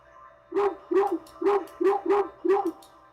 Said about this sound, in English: A series of excited barks jerks your gaze when you see a large dog sprinting towards you.